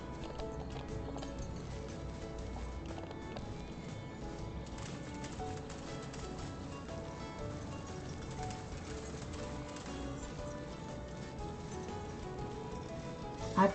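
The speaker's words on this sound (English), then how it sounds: "Look at the wild horses." Wild horses on a ranch meadow, their hooves clip-clopping in a steady, dense patter that runs unbroken at moderate loudness, with no voices over it.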